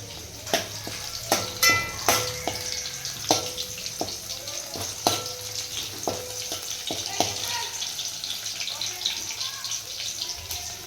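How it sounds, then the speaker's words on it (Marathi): Raw masala sautéing and sizzling in a pan for a goat leg (bakra paya) soup, with a steady frying hiss broken by repeated sharp clinks and scrapes of stirring against the pan. "कच्चा मसाला पण आपण त्याच्यात परतून घेतोय."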